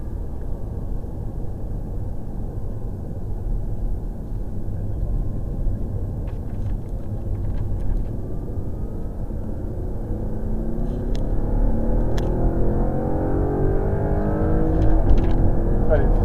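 An Audi R8 accelerates on a driving circuit during a track driving course, its deep engine rumble building steadily and climbing in pitch toward the end, with the car close by throughout.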